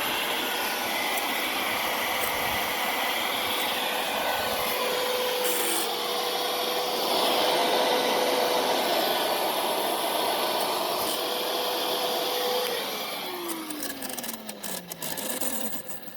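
A Sun Joe AJ805E 15-inch electric dethatcher runs with a steady, loud motor whir and rake scraping, holding constant before the pitch sags and winds down near the end, with no talking.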